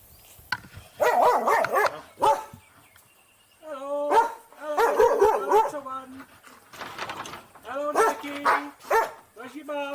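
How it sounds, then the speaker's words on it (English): Several dogs bark in repeated bursts across the scene, loud and fairly close, with whimpers and yips mixed in and a voice talking between the barks. "The dogs down this end all know me, so I don't give it what for with all the barking."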